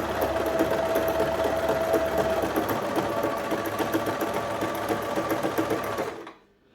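A domestic sewing machine stitching fabric, giving a steady, close mechanical whirr with rapid needle ticking that runs without a break for about six seconds, then stops.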